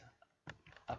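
Keystrokes on a computer keyboard come as a few short, sharp clusters of clicks at close range. The bursts are separated by quiet gaps, and no speech is heard.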